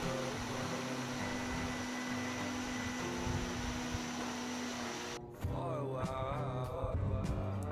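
A kitchen mixer grinder runs on soaked urad dal covered with water for idli batter. The motor drones steadily, then cuts out briefly and restarts with a sharper, rattling whir.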